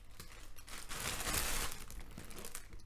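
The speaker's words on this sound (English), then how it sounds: "the best way of making sure that the salmon gets all the flavor is to put it into a plastic bag" A plastic bag crinkles close by as salmon fillets are put in for a miso marinade, a steady rustling that swells to a louder crackle midway, then eases off.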